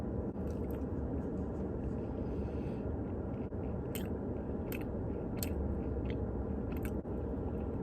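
Close, wet chewing of frozen yogurt with toppings such as coconut and cheesecake cubes, steady mouth sounds with occasional sharp clicks and crunches, no talking.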